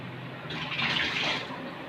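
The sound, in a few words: adding water to pakora batter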